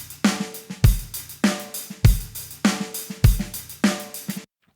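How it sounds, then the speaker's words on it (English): Basic rock drum pattern from a Logic Pro session player, kick on beats one and three and snare on two and four, playing a steady, punchy, close loop of repeated hits for a few bars, then stopping. "if I do my kick on 1 and 3 and my snare on 2 and 4, that's kind of your basic rock pattern"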